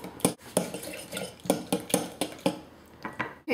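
Beaten eggs being mixed into a bread pudding mixture of bread and sugar in a bowl, with a run of sharp, irregular utensil clinks and scrapes against the dish, close and fairly loud, without talk.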